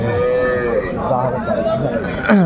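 Cattle at the Aftabganj livestock market in Dinajpur, with a cow or calf lowing among a busy crowd; a drawn-out moo rises near the end over steady background chatter.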